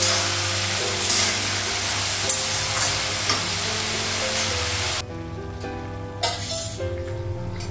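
Eggs fry in a pan with a loud, steady close-up sizzle that drops sharply in level partway through, then continues more quietly with a few light clatters.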